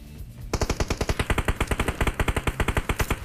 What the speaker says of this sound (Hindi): काफी सॉलिड गन शॉट्स की आवाज़ आने वाली है